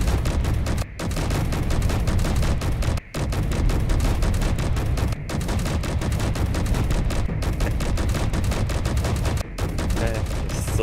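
A custom assault cannon turret in Space Engineers fires in rapid sustained bursts, loud and close, its dense rattling salvos broken by brief pauses every couple of seconds.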